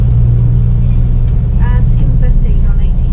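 Whale watching boat with two 750-horsepower engines: a loud, steady low engine rumble throughout, with people talking over it.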